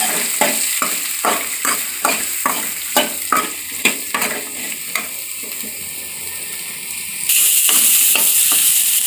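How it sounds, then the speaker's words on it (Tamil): Onions sautéing in a pan for Chettinad mutton gravy, with a steady sizzle and a series of sharp, rhythmic stirring scrapes from a spoon against the pan, then a louder, even hiss toward the end. "அந்த 3 வெங்காயத்தை இதில் சேர்த்துக்கலாம். நல்லா வதக்கி விட்டுட்டே இருங்க."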